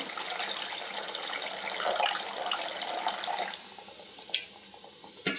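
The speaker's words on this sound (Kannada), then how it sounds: "ನೀರು ಸಾಂಬಾರಿಗೆ ಎಷ್ಟು ಬೇಕು ಅಷ್ಟು ನೀರು ಹಾಕ್ತಾಯಿದ್ದೀನಿ" Water poured into a cooking pot while making rasam at home, a steady close splashing pour that runs strong for about three and a half seconds, then eases to quieter trickling with a couple of brief splashes near the end.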